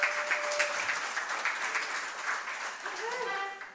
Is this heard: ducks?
no